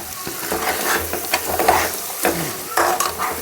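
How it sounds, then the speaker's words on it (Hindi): Chickpeas frying with spices in a pan while being stirred, a steady close sizzle with repeated scraping strokes of a spoon, no voices. "अब हम इसमें सारा चना डाल देंगे, और इसको हम 1 मिनट मसाले के साथ पकाएंगे।"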